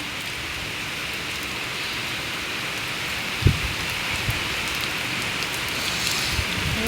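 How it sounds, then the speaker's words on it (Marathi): Steady, dense rainfall hisses evenly throughout, with a brief low thump partway through and no voices. "आहे का तुमच्याकडे एवढा पाऊस सांगा"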